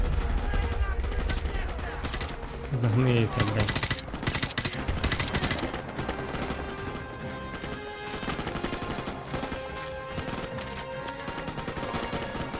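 Rapid bursts of gunfire in Call of Duty: Modern Warfare Remastered crackle and rattle continuously, with a brief shouted voice over the dense, loud shooting.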